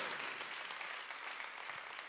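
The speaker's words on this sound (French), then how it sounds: "On peut les applaudir, ils sont nantais." An audience at the WEB2DAY 2017 event applauds a Nantes band with a soft, even patter of many hands that sounds distant and subdued throughout.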